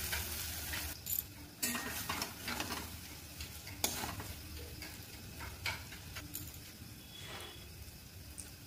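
Spiced masala mixed with yogurt is stirred in a pan for palak paneer. A quiet, steady sizzle runs throughout, broken by irregular scraping strokes of the spoon close by, with no talking.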